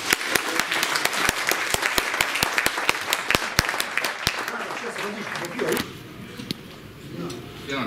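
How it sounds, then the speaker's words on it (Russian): Audience at a trading seminar applauding, loud rapid clapping in a room with sharp individual claps standing out, fading after about six seconds into quieter room sound with a few scattered claps. "Давайте похлопаем."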